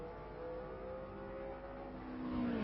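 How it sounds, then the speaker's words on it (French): Dan Gurney's Eagle Formula 1 race car passes at the 1966 French Grand Prix, a steady mid-pitched engine drone with a tonal whine that swells louder toward the end, no voices. "Là voici l'Eagle de Dan Gurney"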